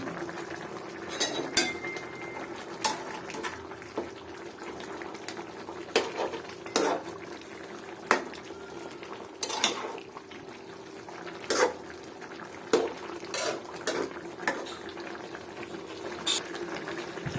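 A pot of eggplant and radish curry with dried loitta fish simmers, bubbling quietly underneath while a utensil clinks and scrapes against the pot at irregular intervals throughout.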